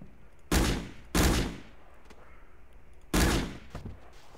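Three loud, sharp shots from a video game handgun fired at zombies, the first two close together and a third after a pause, each with a short echoing tail.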